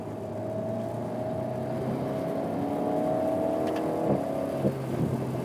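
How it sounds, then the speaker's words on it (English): A 2019 Alpine A110's four-cylinder engine hums steadily from inside the car, its tone climbing gradually as it revs, then a brief shift before settling. "That is one of the nicest sounding 4-cylinder engines I think is available on the market."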